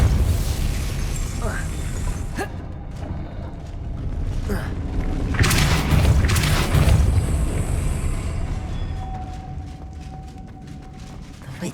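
A Depulso force spell blasting in Hogwarts Legacy, a deep rumbling boom swelling in the middle over game ambience, with a voice speaking.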